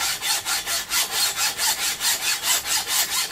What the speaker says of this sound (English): get in there with the hacksaw. And it actually cuts pretty easily.